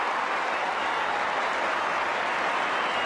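A stadium crowd at an AFL match roars and applauds after a goal, a steady, dense wall of cheering and clapping that holds at full intensity throughout, with no clear voices above it.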